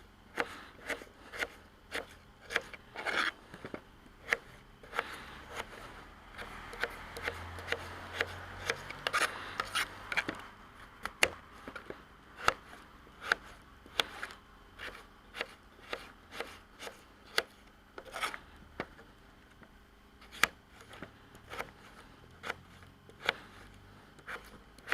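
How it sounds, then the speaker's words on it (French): A knife chops potatoes into small pieces on a cutting board, quick sharp knocks in irregular bursts, close and alone, with short pauses between runs. "Les couper en petits morceaux."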